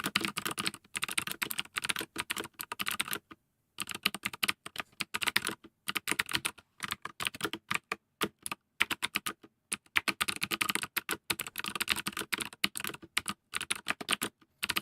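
Rapid typing on a computer keyboard, dense bursts of close, crisp key clicks broken by short pauses, steady and fairly loud with no voices.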